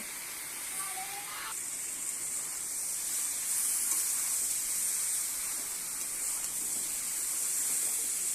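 Sliced pointed gourd and snake gourd hit a hot frying pan for a fish roe dish, setting off a steady, fairly loud sizzling hiss that swells slightly and holds throughout, with no voices.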